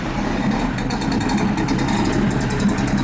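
A VW Baja Bug with a stainless exhaust collector runs at a steady, close idle, its air-cooled engine burbling evenly and loudly without a break.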